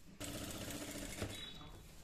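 A sewing machine stitches right along the edge of a neckline fitted with gota patti trim, starting abruptly and running in one steady, close-up burst to the end.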